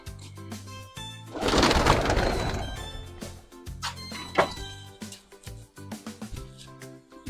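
Soft pigeon coos and bird calls amid a busy mix of thumps, a loud rushing burst, and scattered knocks nearby.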